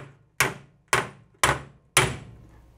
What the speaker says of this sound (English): keep this in my right hand and just hit it from the back and back it up with the dolly